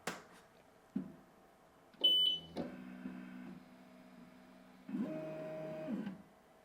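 An XTOOL S1 laser cutter powering back on gives a series of electronic beeps and a bright startup chime, followed by humming motor whirs and clunks as the mechanism moves, close and fairly quiet.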